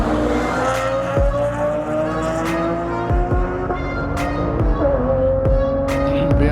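Toyota Supra and BMW drag racing at a Tucson street show, engines roaring hard and close with repeated sharp gear-shift drops and rising whines, a continuous loud, layered engine roar throughout.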